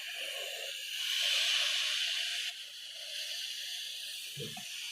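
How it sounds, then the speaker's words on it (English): Steam hisses from a steamer held against glue on a corset bustier cup, a steady airy hiss that swells louder for a moment, then drops back and continues, ending with a faint soft knock. "So the steam is melting the gum"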